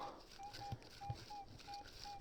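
A metal detector held over a buried target gives a repeated short, thin electronic beep, about six evenly spaced tones, faint against an outdoor hiss with soft footsteps or digging bumps.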